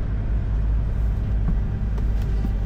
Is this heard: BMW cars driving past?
yes